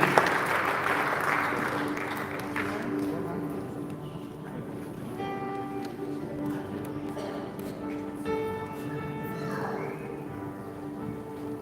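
Applause from a church congregation, strongest at the start then fading into a sustained ripple, with tonal music or voices mixing in later.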